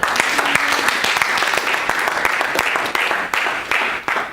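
A church congregation acclaims the Lord with sustained, dense clapping and cheering that fills the room, with voices mixed into the crowd noise.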